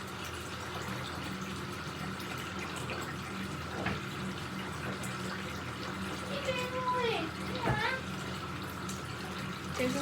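Hot water running from a tap into a cup while making slime, a steady broadband rush under faint background voices, with a few clinks and small splashy squeaks near the end.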